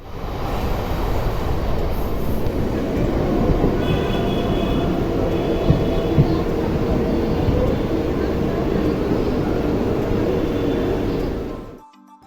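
A Mumbai local train rolls along at steady speed, a dense continuous rumble and rattle of the carriages that runs unbroken for most of the stretch before cutting off near the end.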